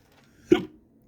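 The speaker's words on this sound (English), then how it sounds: "Oh, I've got hiccups now." A single short hiccup from a person sitting indoors, brief and fairly close, with quiet room tone around it.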